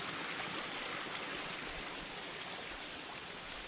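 A mountain stream flowing down from an upper channel past old hillside fields, a steady broadband rush of water, soft and even, with no break or speech for several seconds.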